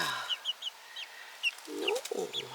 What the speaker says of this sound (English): These little chickens.